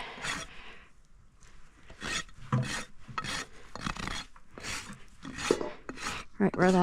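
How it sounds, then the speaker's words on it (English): A farrier's rasp files a cracked horse hoof during a corrective barefoot trim, in a series of about ten rough, rhythmic scraping strokes, close and fairly loud with short pauses between them. "Once I've done that, I'm gonna come in with my rasp."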